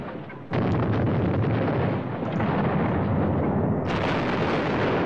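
A unit fires artillery in the wargame Battles of Normandy: a heavy boom cuts in after a brief quiet and is followed by a long, rolling roar of blasts that stays loud and dense throughout, with no voices.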